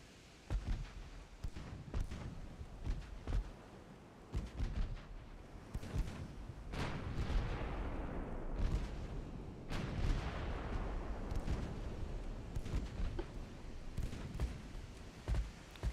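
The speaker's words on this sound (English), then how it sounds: "battleship lands a hit" Battleship naval guns striking a target in a strategy game: a rapid series of sharp booms and thuds, some overlapping into rolling rumbles, moderately close and fairly loud throughout.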